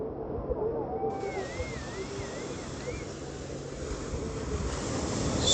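Sea waves at Nagoa beach, Diu, after sunset, forming a constant broad wash of surf mixed with wind buffeting the microphone, while faint voices come and go in the background.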